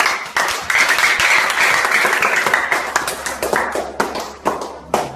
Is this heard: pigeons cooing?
no